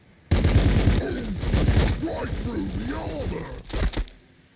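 Twin assault cannon on a Blood Angels Predator tank firing in Warhammer 40K: Battlesector, a dense run of rapid heavy gunfire bursts that continue throughout and end in a couple of sharp shots.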